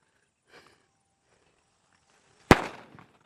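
A firecracker set off during a Diwali cricket game, with one sudden loud bang that decays into a short crackling tail, after faint rustling and a quiet lull.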